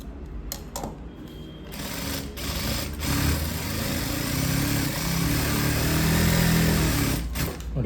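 A sewing machine runs a line of stitching on chudi lining in a tailoring room, a steady mechanical whir building through the clip after a few brief clicks and handling noises, with no talking.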